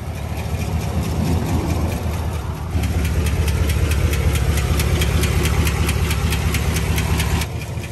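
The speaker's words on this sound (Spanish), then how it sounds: "los lifters les colapsen, que se atoren y dejen de funcionar, ocasionando un ruido horrible" A GM truck V8 engine, 6.2 or 5.3 litre, with collapsed lifters, idling with a steady, fast ticking and knocking that carries on without a break. The engine note rises slightly partway through.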